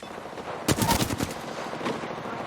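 A short burst of rapid automatic gunfire in the video game Apex Legends, several sharp cracking shots close together, then a quieter shot fading into a low background.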